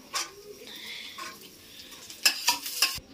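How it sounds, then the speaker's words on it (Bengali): Crackling sizzle of raisins frying in a hot pan, with a few stirring scrapes and sharper bursts of spattering near the end; no talking. "এবার কিশমিশগুলো ভেজে নেব।"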